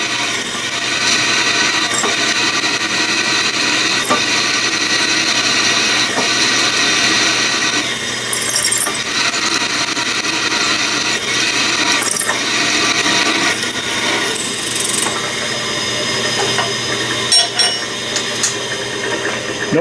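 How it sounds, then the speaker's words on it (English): Steel being drilled on a metalworking machine, chips breaking off as the bit cuts; a steady, continuous grinding and rubbing sound, close and fairly loud, with brief scraping bursts and no talk. "it took much more pressure for me to drill through that than it did the lead alloy"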